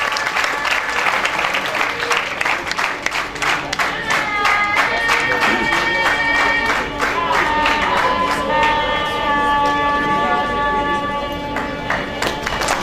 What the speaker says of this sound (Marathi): त्यांचं एकदा जोरदार टाळ्यांच्या गजरामध्ये आपण स्वागत करायचं.